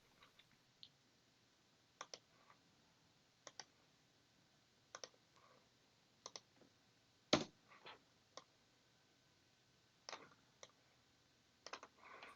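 Quiet, sparse clicks of a computer mouse and keyboard keys while designing in Fusion 360, single and paired taps scattered irregularly, with one sharper click standing out midway.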